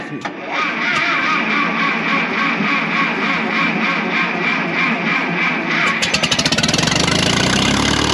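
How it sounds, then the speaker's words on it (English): A Farmall 706 Hi-Clear tractor engine cranks over on a slightly slow starter, catches and settles into a loud, steady idle with rhythmic chugging, close by and continuous throughout. "Starter's a little slow, but that's not a big deal. Let it sit here and idle and warm up"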